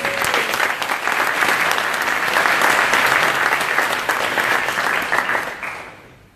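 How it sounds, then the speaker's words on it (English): A large audience at a student representative council awards ceremony gives a school council a loud, sustained round of applause that swells and then tapers off near the end. "So give them a big round of applause."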